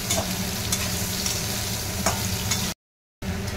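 Potatoes frying in mustard oil in a wok give a loud, continuous sizzle with light stirring scrapes, cut off by a brief silence near the end, with no speech.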